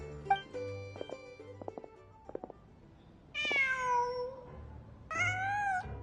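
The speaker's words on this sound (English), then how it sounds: "Huh. Just a cat." A cat in the video game Genshin Impact meows twice, long drawn-out cries after a few soft clicks, set against quiet game ambience with no talk.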